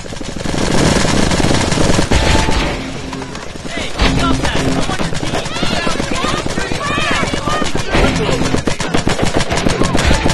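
Paintball guns firing in the video game Greg Hastings Paintball 2, loud dense rapid volleys of popping shots that pause briefly and then resume, with a player talking over the gunfire.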